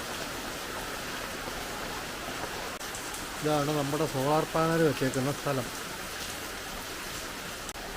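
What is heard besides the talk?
heavy rain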